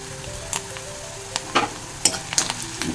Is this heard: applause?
no